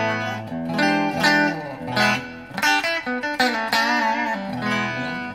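Clean electric guitar played straight through a small VOX Pathfinder 10 practice amp with no effects, a run of bright picked notes and chords sounding close and fairly loud, alone without talk.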